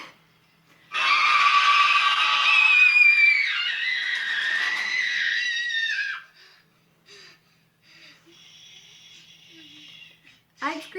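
A woman in a TV horror series lets out a long, loud, high scream lasting several seconds, then quieter scattered sounds and voices follow.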